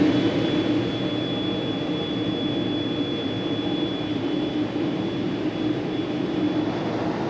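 Steady broadband roar of an Air India jet cabin after takeoff, a constant engine and airflow drone with a faint high whine, continuous and even throughout with no talking.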